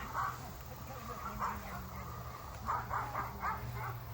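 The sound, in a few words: dog barking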